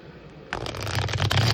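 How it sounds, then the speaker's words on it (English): A deck of tarot cards is shuffled in one quick riffling burst of dense, crisp paper flutter over soft room hiss, close and fairly quiet, with no other sound. "Four more shuffles for Terry, Odin, Scorpio, Emily, Taurus."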